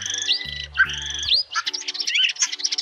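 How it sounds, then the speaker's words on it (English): A starling calls in a rapid run of whistles, chirps and rising and falling slurred notes, clear and close, with no voices. "Starling."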